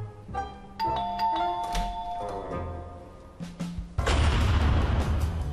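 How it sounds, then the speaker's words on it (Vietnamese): A doorbell rings indoors in a home, giving a short series of clear chime tones, followed later by a burst of loud, noisy sound. "Mandy, bấm chuông đi"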